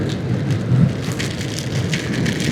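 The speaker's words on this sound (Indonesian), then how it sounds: "hujannya deras banget" Heavy rain pours steadily during a solo motorcycle tour along the Pantura route, a dense, loud continuous hiss close to the rider with no talk.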